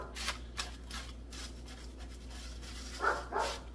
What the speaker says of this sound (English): Oh, my dog wants to get in, I think.